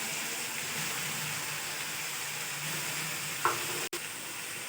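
Cumin, boiled white chickpeas and potatoes fry in oil over a medium flame, giving a steady, even sizzle with a brief clink of stirring near the end.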